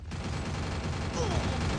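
Shotgun fire in the mobile battle game Free Fire, a dense, loud, continuous crackle of gunfire and game noise that barely lets up for the whole stretch.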